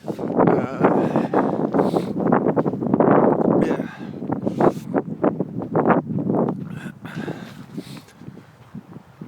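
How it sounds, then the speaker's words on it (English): Strong wind gusts roar against the microphone in a loud, continuous rush, with a person speaking briefly over it. "it gets super windy around my buildings"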